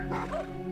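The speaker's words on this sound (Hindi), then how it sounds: "आसपास के कुत्ते भौंकने लगे।" Dogs barking at night near a village house in a Hindi horror story, a short rough bark or growl under steady low background music, brief and moderately loud.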